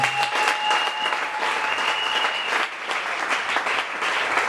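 A church congregation applauds, a dense sustained wash of many hands clapping at once, loud and even from start to finish with a faint tonal hum beneath.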